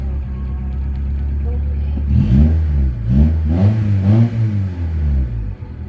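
A Honda Accord engine being revved hard to about 6,000 RPM after a no-start repair, a loud close rumble with several rising and falling revs over a steady idle, with people talking over it.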